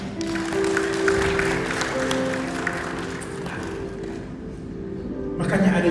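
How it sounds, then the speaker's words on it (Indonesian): A church congregation applauds in a moderate wash of clapping, with a sustained tone lingering beneath and voices mixed in, before the clapping tapers off. "boleh tepuk tangan."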